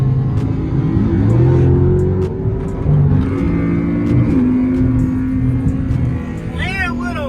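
Dodge Hellcat Charger engines on a highway: a loud, steady, deep engine roar with rising and falling revs, close by and continuous, with voices talking over it.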